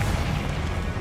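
A Confringo fire spell bursts in Hogwarts Legacy, a dense, booming blast that fills the whole moment with a rumbling, crackling roar and no speech over it.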